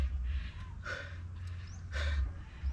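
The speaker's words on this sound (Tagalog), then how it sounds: "Hingal, hingal." Heavy breathing and gasping right after a workout, with a few audible breaths over low background rumble, close to the microphone.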